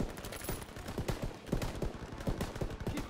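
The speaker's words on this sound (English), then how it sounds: "MGs, open fire." Machine guns rattle in rapid bursts of automatic fire during a World War II battle in Call of Duty: WWII, the sharp shots coming close and steady throughout with no speech.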